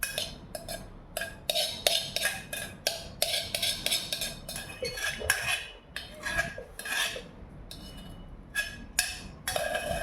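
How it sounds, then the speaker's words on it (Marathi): A spoon scrapes and scoops boiled corn out of a metal pot, with repeated close clinks and knocks of metal on metal in a steady, busy rhythm. "आता हे राहिलेले कॉर्न आपण एका चमच्याने काढून घेऊया"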